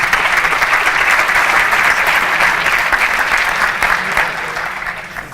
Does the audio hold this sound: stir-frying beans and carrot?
no